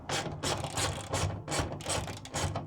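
Rapid ratcheting clicks from a hand tool unscrewing screws on a Mercedes Sprinter van bulkhead, close and fairly quiet, coming in quick repeated bursts about twice a second with no talk.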